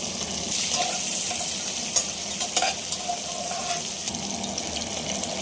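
Onions and whole spices (clove, star anise, peppercorns, cinnamon, fennel) frying in hot oil for vegetable pulao, a steady close sizzle with a few scrapes of stirring, no voices.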